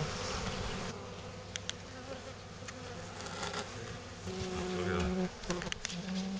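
Honeybees buzz steadily around a Layens hive holding a recently housed swarm, a dense continuous drone that stays close and loud throughout, with occasional sharper passes of individual bees near the listener.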